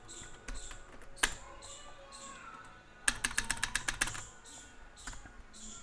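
Fast bursts of typing on a computer keyboard, with a dense run of sharp key clicks at the midpoint and scattered single taps around it, fairly close.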